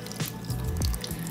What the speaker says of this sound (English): I'm going to pour in just a little bit of this pineapple juice